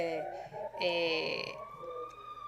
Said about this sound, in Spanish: vimos por ahí una sirena